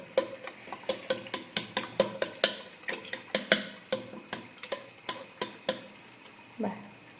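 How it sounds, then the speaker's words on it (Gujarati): Vegetables being stirred and mixed by hand in a pan, a steady run of sharp, close scraping strokes about twice a second, with no talk over them. "હવે શાકભાજીને છે ને આવી રીતના કરી નાખવાનું છે સરખું બધું એકદમ મિક્સ થઈ જાય"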